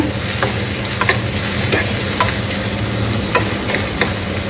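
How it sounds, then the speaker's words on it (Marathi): Onion sautéing in a pan with chillies, a loud continuous sizzle broken by regular scrapes and taps of the spatula as it is stirred. "इथे आता कांदा छान परतून घ्यायचा आपल्याला याचा कच्चेपणा जातपर्यंत"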